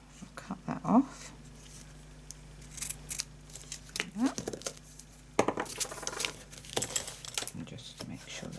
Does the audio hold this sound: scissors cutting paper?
yes